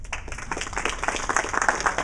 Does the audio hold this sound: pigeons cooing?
no